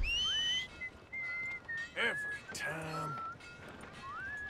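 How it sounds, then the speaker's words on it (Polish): Whistling for a horse in the video game Red Dead Redemption 2, a sharp rising whistle followed by the horse's whinny and hoof sounds, with intermittent talk alongside. "Żeby usłyszeć gwizdanie."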